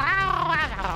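A human voice imitates the bubbly gurgle of a murloc from the video game Hearthstone, a short, wet, warbling burst delivered close to the microphone.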